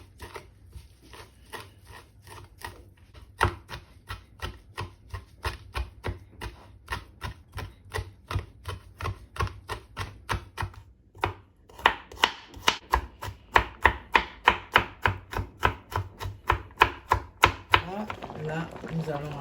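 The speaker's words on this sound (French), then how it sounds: "découpez votre basilic," Knife finely chopping basil on a cutting board while cooking sakasaka, a dish of cassava leaves: a long run of steady, rhythmic chops that grows louder and faster toward the end, with no talk over it.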